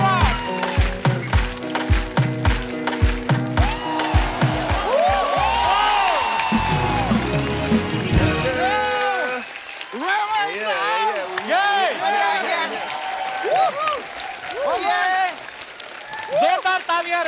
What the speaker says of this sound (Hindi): जोरदार तालियां रेमा के लिए.